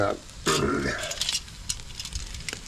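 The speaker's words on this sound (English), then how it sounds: "you can hear the butter in there, just sizzling away" Butter sizzling and crackling in a hot pan, with a utensil scraping and stirring near the start.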